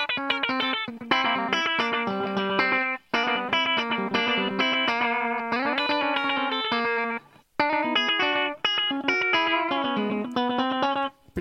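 Electric guitar on the bridge pickup through a slapback echo, playing bright, busy riffs in phrases separated by brief pauses, loud and close with no talking.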